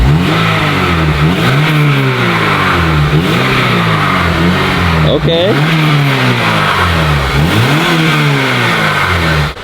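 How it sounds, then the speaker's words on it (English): Stock exhaust on a Honda Civic Si revving repeatedly, several rising and falling throttle blips over a steady idle, loud and close, with people talking briefly during it. "All right, let's hear some revs."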